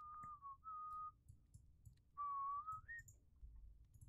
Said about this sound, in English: Who the fuck is whistling?